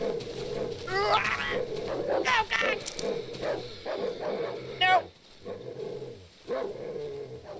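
Dog barks and yips in the horror video game Darkwood, several sharp calls in an uneven run, some whining, mixed with frightened shouting from a player talking over them.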